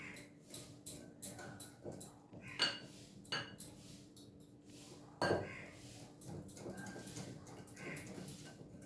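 Chilla batter mixed with water being stirred in a bowl, a spoon scraping and tapping in an uneven rhythm with sharp clinks against the bowl's side, close and fairly quiet.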